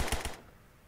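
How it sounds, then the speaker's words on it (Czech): Automatic gunfire from the video game Zero Hour: a short burst of three rapid loud shots, close and sharp, cutting off into quiet, with no talk over it. "Střílí po tobě vlevo od tebe."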